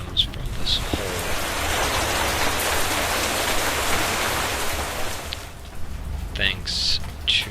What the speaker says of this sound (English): Hate this rain sound that comes from this hole.